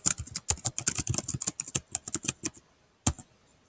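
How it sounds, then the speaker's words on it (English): A name is typed on a computer keyboard in a quick run of crisp, close keystrokes. The clicks come in bursts and then a short pause, followed by one last stroke. "And now we'll type my name."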